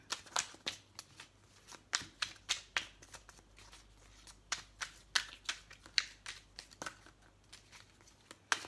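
Tarot cards shuffled by hand, a quiet, close run of rapid papery riffles and slaps repeating in uneven bursts with brief pauses between them.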